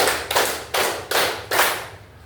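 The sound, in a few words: class clapping on the teacher's count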